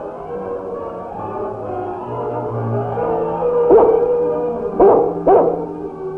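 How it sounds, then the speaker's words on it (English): A dog howls in a snowy Yukon wilderness, long wavering cries rising through several swells with a few sharper yelps near the end, mid-distance over a quiet outdoor backdrop. "The dog must have smelled a rabbit or something"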